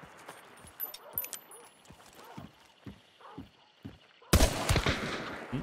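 Gunfire in the video game Hunt: Showdown, with quiet clip-clopping horse-like thuds early on and a sudden loud burst of shots near the end.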